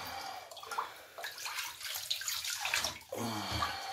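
Water splashes and sloshes steadily while a cat is bathed in a tub or sink, the close, continuous washing sounds running the whole time with brief pauses and no speech.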